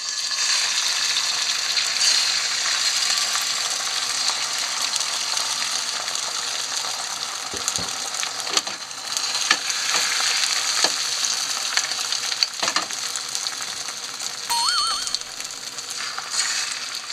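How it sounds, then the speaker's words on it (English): Egg mixture fries in an oiled pan over medium heat, a steady close sizzle with occasional scraping and tapping from a utensil; no talking. "Pour in half of the egg mixture."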